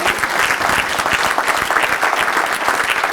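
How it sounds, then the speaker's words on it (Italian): Steady applause from an indoor audience at a talk, dense and even throughout, a continuous wash of clapping with no speech over it. "Un applauso."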